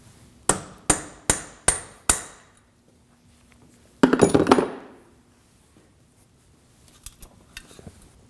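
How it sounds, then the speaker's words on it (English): Sharp hammer strikes on a punch against a stuck rear axle stub of a 2016-2022 Honda Pilot, five evenly spaced metallic blows in quick succession, then a longer scraping metal rattle, close and loud with no talk. "use a punch and a hammer to free it up"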